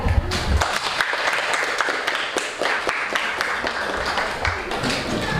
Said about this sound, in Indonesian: kita berikan tepuk tangan kepada kelompok yang ada sulit dalam mempresentasikan hasil diskusinya dengan sangat baik